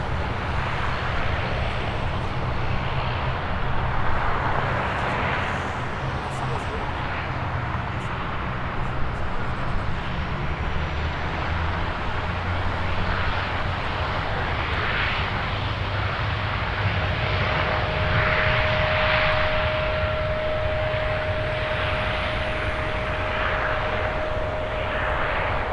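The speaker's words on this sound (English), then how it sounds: "The mighty Airbus A380-800 to Dubai, EK242." An Emirates Airbus A380-800 takes off from Toronto Pearson bound for Dubai, a sustained, powerful engine roar that builds and holds for the full length, with a thin whine rising above it.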